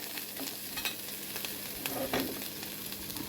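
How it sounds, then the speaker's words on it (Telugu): Tomatoes frying in a pan for a traditional punti kura curry, giving a steady, soft sizzle with faint stirring scrapes near the pan and no talk. "ఇప్పుడు టమాటాలు వేసేద్దాం ఒక నాలుగు టమాటాలు వేసిన టమాటాలు వేసి మగ్గిద్దాం"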